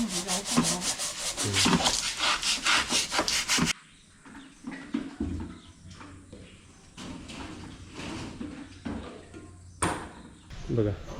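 Fast, rhythmic scrubbing strokes rasp across a hard surface, then give way to quieter, scattered scraping and wet brushing sounds.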